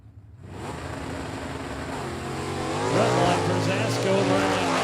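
An Oldsmobile and a Mustang launch side by side at a drag race, engines roaring in from near silence and building into a loud sustained high-revving blast.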